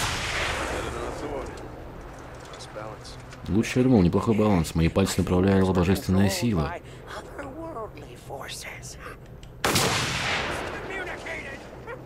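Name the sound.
gunfire in video game Mad Max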